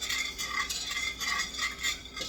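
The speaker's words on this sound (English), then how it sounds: "Just kind of stir it together." A whisk stirs a thin sauce in a pot, scraping in a steady rhythm of brisk strokes about twice a second, close and clear with no talking.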